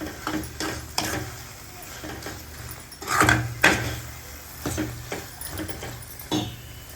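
Mushroom masala being stirred in a pan at a village cooking setting, with rough scraping strokes and soft sizzling of the frying spices, several louder stir bursts near the middle, no voices.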